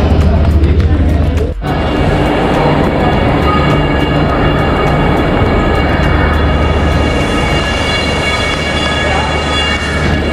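A shunting locomotive at Chennai Central station, running on shunting duty, gives off a loud steady engine drone with rail noise throughout, marked by one sharp break early on.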